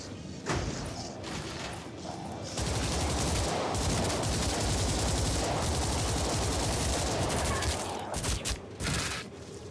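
Sustained assault rifle fire in World War Z VR, a loud continuous automatic stream of shots dominating most of the stretch, with a few brief pauses near the start and end.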